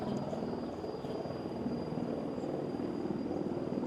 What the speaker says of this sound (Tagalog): May mga nagpa-practice ng helicopter.